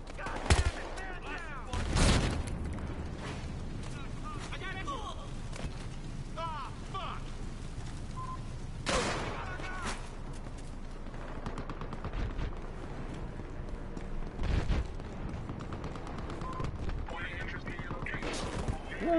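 Bursts of rapid gunfire crackle loudly in the video game Battlefield Hardline, with shots repeating in clusters while voices talk excitedly over the action.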